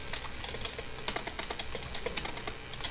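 Rapid typing on a computer keyboard while writing web page code, a dense, steady patter of light key clicks close by with no voices.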